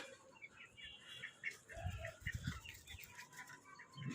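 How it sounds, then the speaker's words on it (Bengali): Chickens and ducks being fed in a yard give soft, scattered clucks and quacks with light pecking and wing flutters, faint and close, no voices. "দিচ্ছে আমি মুরগিকে খাবার, হাসে খাচ্ছে"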